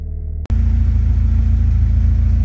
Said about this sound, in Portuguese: falar um pouquinho da configuração do escapamento do meu carro